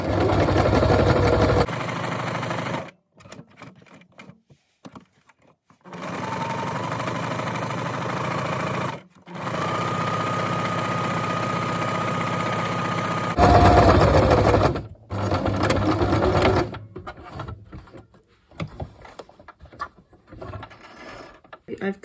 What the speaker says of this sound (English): So I will zigzag the edges.